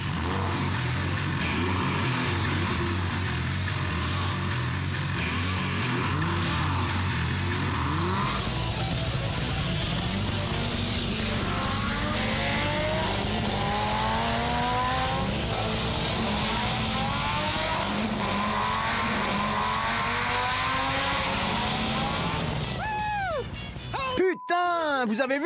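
A Chevrolet Impala running on bio fuel races a gasoline Lamborghini, engines revving and rising in pitch as they pull away, loud and close, with voices and music layered over the roar.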